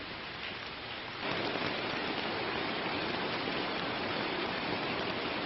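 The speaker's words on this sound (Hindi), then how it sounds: "मुंबई में मूसलाधार बारिश जारी है।" Heavy torrential rain pours down in Mumbai along with flowing water, making a steady, dense hiss that swells louder after the first second and holds without a break.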